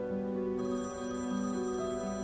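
A mobile phone rings indoors with a steady electronic ringtone that sounds repeatedly for a couple of seconds, fairly quiet and with nobody speaking.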